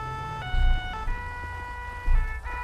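An ambulance siren in the video game GTA 5 wails in stepped two-tone cycles, loud and close, over a low rumbling engine.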